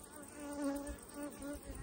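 Bees hum in a soft, steady buzz, close but faint, wavering slightly in pitch over a moment.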